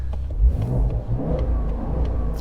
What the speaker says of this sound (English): when you turn on sport, that automatically turns on the louder exhaust